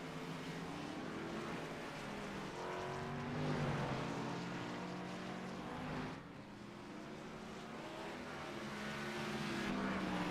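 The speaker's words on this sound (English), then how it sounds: "cars are on track from USA Speedway here tonight" NASCAR Xfinity Series race cars lapping USA Speedway in iRacing, a steady blended engine drone with overlapping pitches rising and falling as the pack circulates, moderately loud and continuous with no talk.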